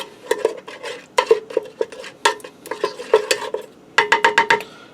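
A utensil scrapes and taps against a Ninja Speedi pot while jarred pasta sauce is spread across the bottom, a series of short clinks and smears close up with no talk.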